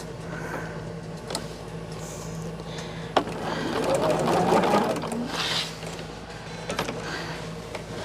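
Sewing machine stitching binding onto a quilt, a continuous whirring motor hum with small speed changes, a few sharp clicks and a louder stretch midway, close by.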